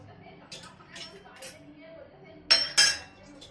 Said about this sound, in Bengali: এটা ভালো করে মিক্স করে নিচ্ছি